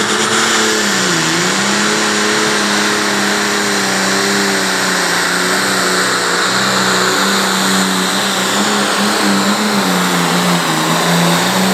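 A big tractor engine roars steadily at a truck and tractor pull in Caldwell, Ohio, revving under heavy load with a deep, wavering drone that rises and falls as it pulls, loud and close throughout.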